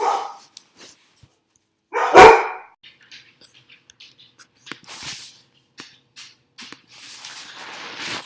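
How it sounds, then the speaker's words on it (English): Several dogs bark in a loud burst near the middle, with scattered quieter yips and barks before and after, and no speech. "Those were my dogs."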